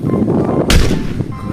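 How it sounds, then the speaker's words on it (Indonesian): A toy sniper rifle gives one loud, sharp shot close by, standing alone midway through a steady low background hum. "yang ini sniper"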